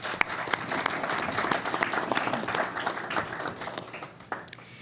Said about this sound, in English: So let's applaud them for their time.